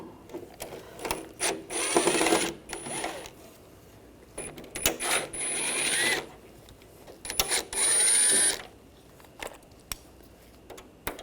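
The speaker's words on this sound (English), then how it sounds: "Use a Phillips head screwdriver, and there's screws." A Phillips screwdriver backs screws out of the front grille panel of a 2004-2009 Audi A4 Quattro, producing several bursts of close scraping and clicking separated by quieter gaps, with no talking.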